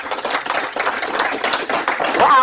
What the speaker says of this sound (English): I want everybody here to give her a big round of applause